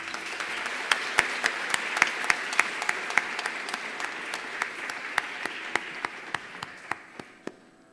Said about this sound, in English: another round of applause for Anandi.